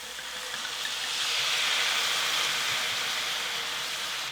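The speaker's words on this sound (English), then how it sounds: "we'll deglaze our pan with half a cup of white wine" A pan deglazed with half a cup of white wine simmers with a steady, broad hiss that swells slightly and holds, continuous and close, with no talking.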